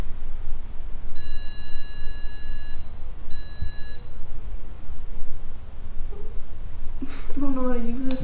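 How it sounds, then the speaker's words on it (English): Two short bursts of high electronic beeping, like a handheld detector, sound over a quiet background, followed by a voice speaking. "It beeps right about there"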